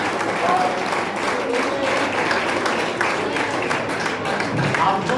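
Applause from an audience at a quiz event in a Jain temple in Bengaluru, sustained dense clapping at fairly close range throughout, with an announcer's voice faintly under it.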